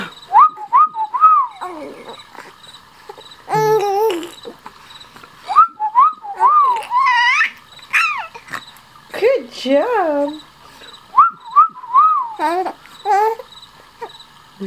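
Short, bright whistled phrases to amuse a baby, rising and falling in quick bursts, close and fairly loud, alternating with an adult's playful talk and a voice imitating chirpy sounds.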